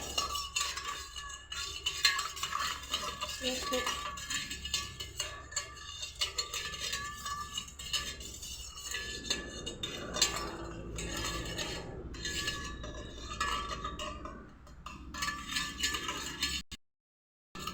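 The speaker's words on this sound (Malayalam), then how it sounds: "ആ ഷുഗർ ടാങ്കൊക്കെ മെൽറ്റ് ആവുന്ന വരെ നമ്മൾ നല്ല മിക്സ് ചെയ്യാം" A spoon clinks and scrapes around the inside of a glass, stirring sugar and orange Tang drink mix with lemon in steady, continuous stirring, close by, ending abruptly.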